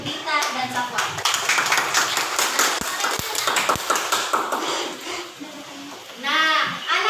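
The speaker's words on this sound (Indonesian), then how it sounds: "tepuk tangan dulu untuk Dita dan Safwan." Children in a classroom break into applause for two classmates, a dense burst of clapping with sharp taps, then fading as young voices and an adult voice talk.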